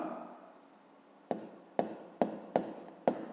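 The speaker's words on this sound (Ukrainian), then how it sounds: "Пишемо відповідь АК" Handwriting an answer on paper during a fifth-grade math exercise: five short, crisp pen strokes in quick succession after a quiet start, close up and soft.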